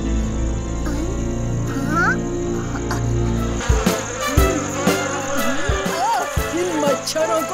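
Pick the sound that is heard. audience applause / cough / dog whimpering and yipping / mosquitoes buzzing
mosquitoes buzzing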